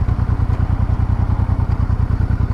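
A Honda Deauville motorcycle engine runs at a steady, loud, close-up beat, rhythmic low thumping pulses with mechanical clatter on top, no talking.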